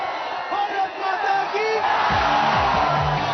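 A large crowd of thousands gathered for Preity Zinta's dangerous air stunt shouts, whoops and yells in a busy, rising roar, with voices mixed into the noisy outdoor cheering.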